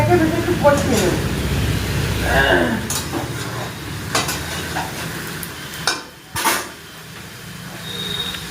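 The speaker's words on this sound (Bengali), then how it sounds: "সব রকম সবজি দিয়ে দিলাম এবার এটাকে একটু নেড়ে চেড়ে তারপরে নুন আর হলুদ দিয়ে বেশ একটু সময় নিয়ে কষবো" Winter vegetables being stirred in a frying pan over a high gas flame, with a soft scraping and sizzling running under a nearby voice throughout.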